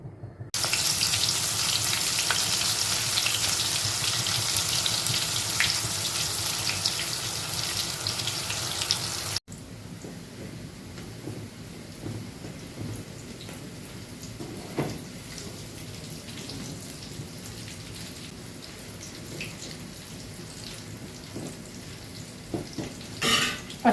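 Thick pakora batter dropped into hot oil, a loud, dense frying hiss for the first stretch, then a quieter, steadier bubbling sizzle with small crackles after a sudden drop in level.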